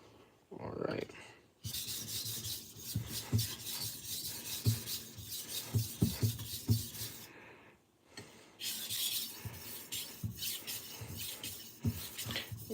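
A kitchen knife is stroked back and forth on a sharpening stone in steady, quiet rasping passes, paused briefly midway, close up with no speech.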